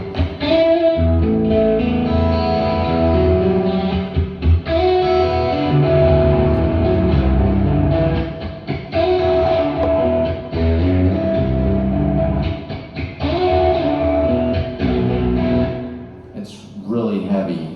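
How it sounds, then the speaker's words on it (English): Guitar riff pitched down an octave with Ableton Complex Pro warping, a heavy, dense, low and loud undistorted sound with a strange processed texture, playing continuously before cutting off near the end. "I pitch it down an octave in Ableton with a warping system called Complex Pro"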